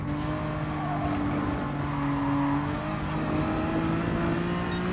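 Honda NSX Gr3 race car driven in GT Sport, its engine droning steadily and loud throughout with slowly shifting pitch as it holds speed, no voices over it.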